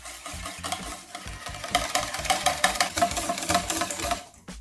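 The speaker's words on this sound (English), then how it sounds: "I'm just gonna whisk this up" Pakora batter of water and milk being whisked briskly in a bowl, a dense run of fast rhythmic scraping strokes that builds in the middle and stops abruptly at the end, with no talk.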